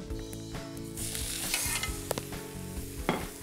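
Vegetable tortilla sizzling and frying in a pan right after being flipped, a steady close crackle with a few sharp clinks and scrapes of a utensil against the pan, no voices.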